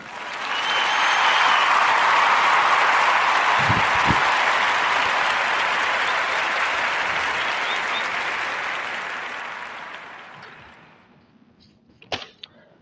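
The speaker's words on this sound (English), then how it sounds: "we're going to give a warm narrative podcast round of applause for Miss Karen Todd and Cutie Pies Bakery." An audience bursts into warm applause that swells quickly, holds as a loud, dense wash of clapping for several seconds, then gradually thins and fades out, followed by a few faint knocks.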